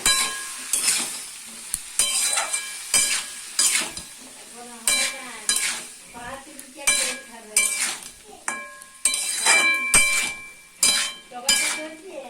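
Spices with cumin powder stirred in a pan, rhythmic scraping and clinking of a metal spatula over a soft sizzle, repeated strokes close by and no voice.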